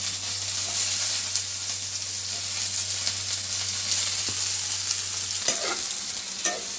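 Onions fry in a pan with a steady, broad sizzle and occasional stirring scrapes, heard close and alone against a low constant hum.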